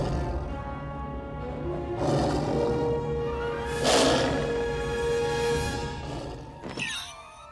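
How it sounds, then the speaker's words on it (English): A cartoon bear sound effect that resembles a lion or tiger roar, with growling roars swelling and fading in several bursts over a rumbling background, ending in a sharp, harsh cry. "When the bear first appears, I honestly couldn't identify those sounds, but if I had to guess, they were a wildcat, like a lion or a tiger."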